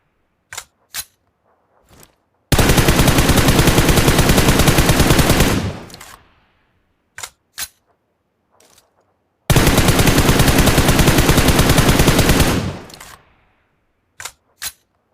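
Gunfire in PUBG Mobile: a few single clicks and shots, then two long, loud automatic bursts of about three seconds each, separated by more scattered single shots.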